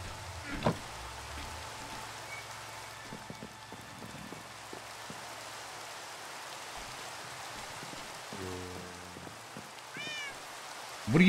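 A cat meows in Minecraft, several short, clear mews among soft rain falling on surfaces, with a louder cluster of meows near the end.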